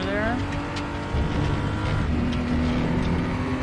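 A BMW M235i Racing engine lugging at low revs in a racing video game at Sepang GP, a loud steady drone with a rising gear whine near the start, with talk over it.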